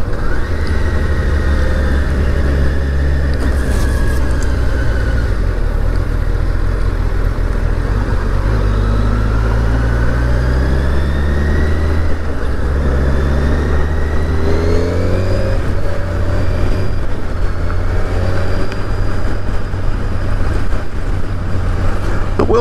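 A 2021 Kawasaki Ninja 1000SX engine drones steadily and loudly while riding on a Daytona loop, with rising revs through the gears as the bike accelerates under constant wind rush.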